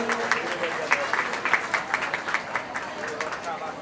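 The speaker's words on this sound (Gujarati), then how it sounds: "આપણે સૌ તાળીઓથી વધાવીએ" Audience at a family Shrimad Bhagwat gathering applauding to welcome guests, rapid clapping running throughout under a speaking voice and crowd murmur.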